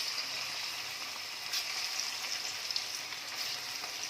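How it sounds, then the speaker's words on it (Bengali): Chicken pieces fry in hot oil in a wok for restaurant-style dry chilli chicken, giving a steady, close, bright sizzle with faint crackles throughout and no voices. "এখন চিকেনগুলোকে ভাজা করে নিচ্ছি"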